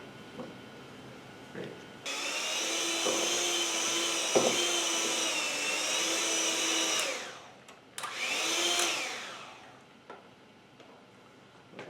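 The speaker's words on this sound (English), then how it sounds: "we're going to mix it using a hand mixer until it's creamy" An electric hand mixer creams room-temperature butter into a flour mixture for an election cake, with a steady loud motor whir for about five seconds, then a short pause and a second burst that winds down.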